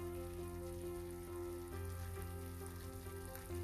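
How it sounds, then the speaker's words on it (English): Spinach, tomato and cashew paste sautéing in a pan, a soft, steady sizzle throughout with faint stirring and no voices. "Saute this a little bit for 2 minutes, not much."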